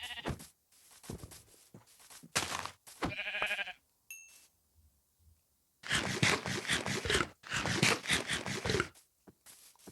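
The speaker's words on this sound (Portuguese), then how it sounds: "Lá tem uma ovelha lá." Sheep in Minecraft bleat in several short separate calls, loud and near, with quiet gaps and a brief tonal chime between them.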